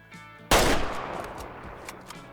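.300 hunting rifle in the video game Way of the Hunter, fired once as a single loud, sharp crack after a quiet moment, followed by a long fading echo.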